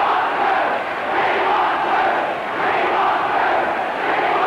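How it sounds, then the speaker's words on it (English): A 1969 Exeter City football crowd roars and cheers in a sustained, dense wall of noise that swells and dips slightly, loud and continuous throughout. "There's the Exeter crowd"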